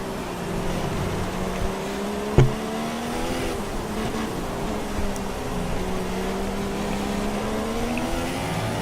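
Formula 1 race cars in the F1 2016 game at the British round, a steady, loud engine drone with rising and falling gear-shift tones, one sharp click partway through, no talk.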